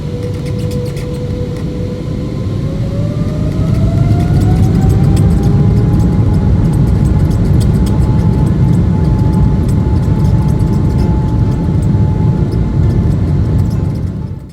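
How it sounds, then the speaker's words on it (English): Airliner jet engines spool up from a steady drone to a loud, rising whine and roar as the plane accelerates down the runway, heard from inside the cabin with no talking. "listening to the engines power up and accelerate forward for takeoff"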